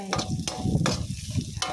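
Bird's eye chilies are stir-fried in a pan with rice while making crispy pork with chili and salt: close, continuous sizzling cut by several sharp scraping strokes of a spatula stirring against the pan.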